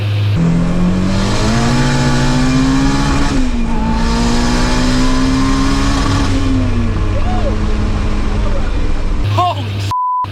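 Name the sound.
turbocharged Toyota Starlet accelerating, turbo spooling up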